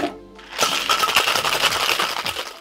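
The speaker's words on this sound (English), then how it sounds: "We're gonna add some ice and then give it a regular shake." Ice rattles hard inside a cocktail shaker tin as a frothy gin drink with egg white is shaken, a loud, fast, steady churning clatter that starts after a brief quiet moment and runs to the end.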